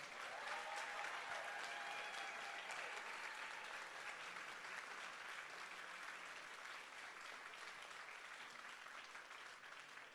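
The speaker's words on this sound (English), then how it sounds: "I want you to give a round of applause" A large crowd at a political summit applauds continuously, a dense wash of clapping that holds steady throughout and fades only slightly toward the end.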